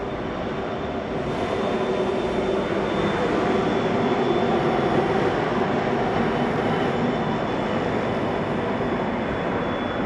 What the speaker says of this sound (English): Two Pacific National TT units on a light engine movement.